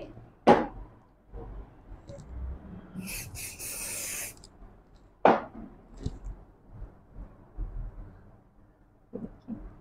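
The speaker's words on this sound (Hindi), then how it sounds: "थोड़ा सा शाइनर स्प्रे" Hair shine spray is sprayed onto a styled bridal updo in one short, soft hiss lasting about a second, surrounded by faint handling clicks and rustles with no talking.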